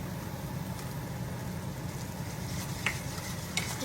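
Spatula working lumps apart while stirring roast broth and potatoes in a pan, a quiet continuous low scraping and bubbling with a couple of brief sharper clicks near the end.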